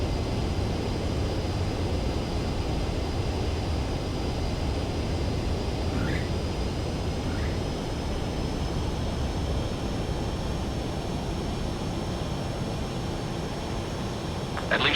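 Steady, unbroken engine drone of an aircraft coming in for a visual landing in the Ace Combat 7 video game, a constant close roar with a faint high tone running over it.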